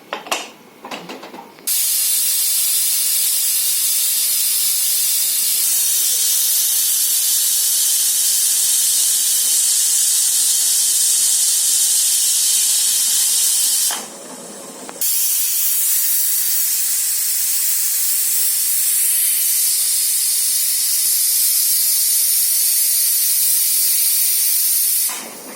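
A pressure cooker holding dal and rice (varan bhat) on a gas stove releases long, loud, continuous steam hisses, two sustained bursts separated by a brief pause, with no talk.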